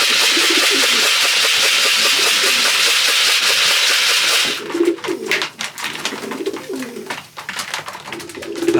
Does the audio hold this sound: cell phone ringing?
no